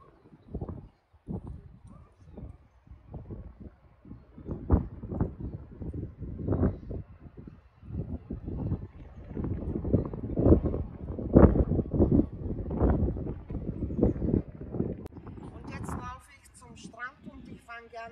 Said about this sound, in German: Es ist sehr windig, wir haben im Moment 10 Grad hier mit einem starken Wind.